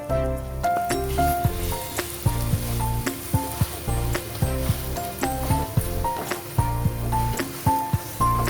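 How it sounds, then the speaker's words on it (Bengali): Spicy urad dal paste sizzles and fries in a pan while a spatula stirs it, a steady hiss with scraping strokes under prominent rhythmic background music. "মশলাটা এরকম ভাজা ভাজা করছি, ততক্ষণ কষতে থাকবো যতক্ষণ না আমার খুন্তির মধ্যে লেগে আসে"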